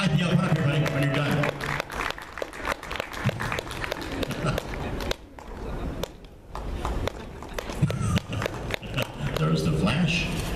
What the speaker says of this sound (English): keep the applause going for him